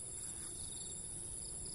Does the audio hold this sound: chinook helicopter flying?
no